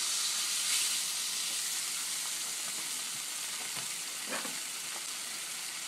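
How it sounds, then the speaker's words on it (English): Beef stock hits a pan of reduced drippings with shallot, garlic and thyme, giving a steady broad sizzle and hiss throughout, with a few brief bursts of louder bubbling and spatter partway through; no talking. "I'm going to add just a little bit of beef stock."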